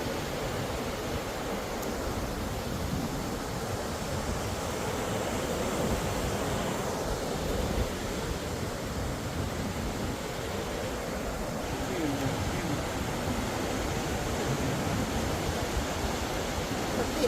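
Storm-driven sea waves on Boracay Island surge and wash in a steady, dense roar, broad and continuous with wind mixed in, no clear individual breaks standing out.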